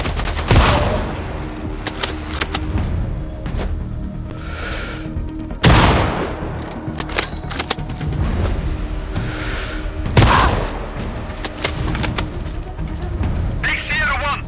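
Sniper rifle fire in the shooter game Sniper Ghost Warrior Contracts 2: three loud, sharp cracks spaced several seconds apart, with bursts of automatic gunfire and scattered shots over a constant background, and radio chatter in between.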